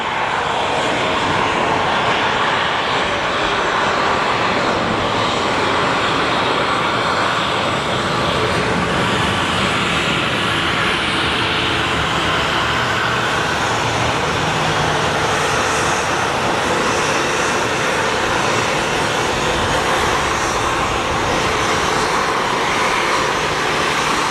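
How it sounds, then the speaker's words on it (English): A departing airliner at Sky Harbor Airport, bound for Yuma, produces a loud, sustained engine roar that stays steady and close for the whole stretch. "And this flight is off to Yuma."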